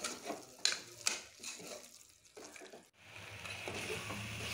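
Mutton pieces added to a pot and stirred while making pressure cooker mutton biryani, giving faint wet scraping and a few soft clinks against the vessel over low background noise, with no voice.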